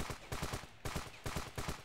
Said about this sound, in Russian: Кто по нам стреляет уже?